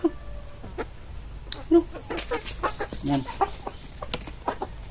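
Chickens cluck and squawk in short, irregular bursts at close range, several birds calling over one another.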